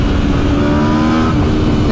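A loud, steady engine drone from a 2021 Aprilia RSV4 Factory sport motorcycle, held at high revs and heard up close for a couple of seconds.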